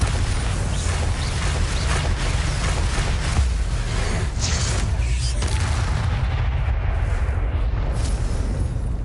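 Bombarda explosion spell in the video game Hogwarts Legacy, a deep sustained boom with rumbling blast texture, loud and dense, tailing off toward the end.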